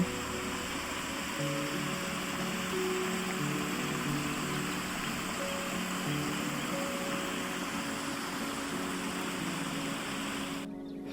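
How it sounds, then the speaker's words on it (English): A waterfall and its creek along the Appalachian Trail give a steady, broad rushing hiss that holds unbroken for several seconds, close and even in level, with no voices. "I saw this beautiful waterfall in front of me and I just couldn't resist taking a video."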